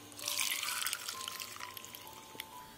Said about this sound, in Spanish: y agregamos 300 ml de agua